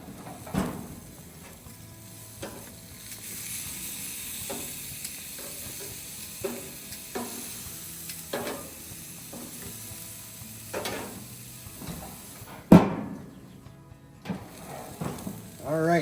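Deer steaks sizzle on a grill in a steady hiss, broken by scattered clicks and knocks of handling and a sharp clatter near the end.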